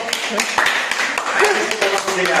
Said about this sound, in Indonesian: Tepuk tangan seluruhnya untuk